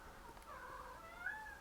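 A house cat meows faintly a few times, soft and slightly distant, over a steady background hiss.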